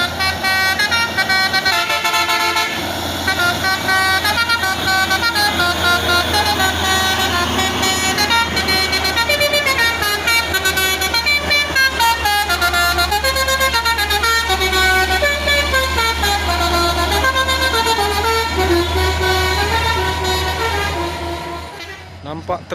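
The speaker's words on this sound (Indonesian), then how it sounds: "Basuri Tolelet Hino" A Hino truck plays a long, loud melody on its basuri tolelet musical horn, running continuously over a steady low engine drone before fading at the end.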